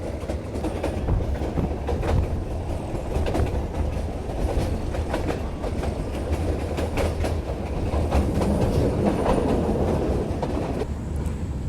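A passenger train on the Nanpara to Mailani line through Dudhwa National Park rumbles steadily along the rails, with a continuous rolling roar and faint rhythmic clatter of wheels heard from inside the carriage, no talk.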